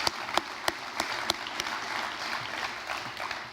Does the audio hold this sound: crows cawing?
no